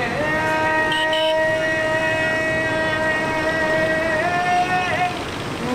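Aboard a Lahore metro train, an electric motor whine hums as a steady tonal drone over rumbling rail noise, its pitch sliding upward as the train picks up speed.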